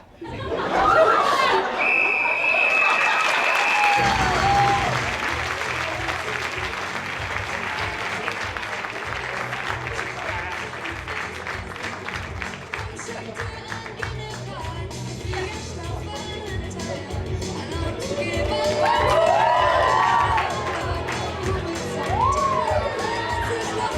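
An improv comedy crowd breaks into loud applause and whooping cheers, with laughter and scattered shouts, settling into steady clapping before swelling again near the end; a voice briefly rises over the noise.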